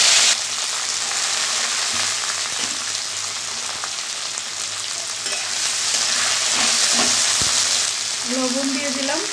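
Beans sizzle and fry steadily in hot mustard oil in a wok with chilli and black cumin, a dense continuous crackle close up that swells slightly toward the end, with a brief stirring scrape near the close.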